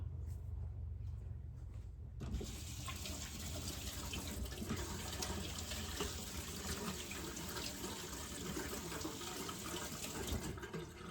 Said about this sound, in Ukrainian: ми перед цим смочимо руки холодною водою